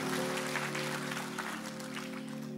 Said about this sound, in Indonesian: Bangkit berdiri, tepuk tangan yang keras buat Tuhan.